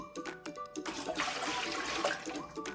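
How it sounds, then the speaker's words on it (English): Tap water runs into a Barton pressure canner, splashing and gurgling steadily close by, with a few brief clunks at the start before the pour settles into a continuous stream. "I'm filling my Barton pressure canner."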